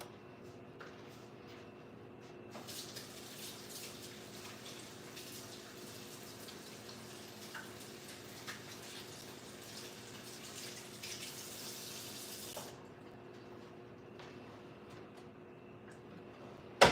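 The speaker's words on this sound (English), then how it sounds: "Wash my hands off." Hands are rinsed under a running kitchen tap after cracking eggs, a steady close hiss and splash of water lasting around ten seconds before shutting off, with quiet room sounds on either side and no talking.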